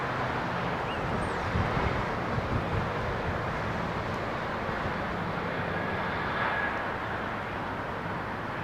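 An airliner departing Heathrow Airport, a broad, steady jet roar heard from outdoors that holds at a moderate level throughout, with some wind noise on the microphone.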